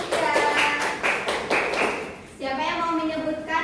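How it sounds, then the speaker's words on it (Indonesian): Classroom applause for a student: a short patter of rhythmic clapping from a group of children, fairly close, followed by a voice speaking. "tepuk tangan untuk Rizkia."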